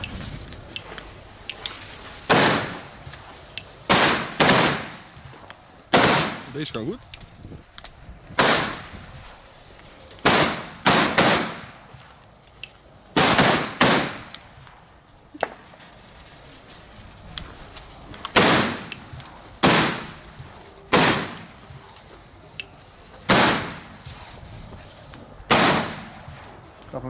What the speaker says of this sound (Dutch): Op zich, ja, goede knal. Voor P1 vuurwerk dan.